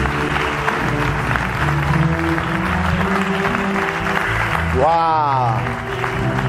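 A church congregation in Gabon applauds and acclaims the Lord, sustained clapping and cheering under a preacher's voice, with an exclamation near the end.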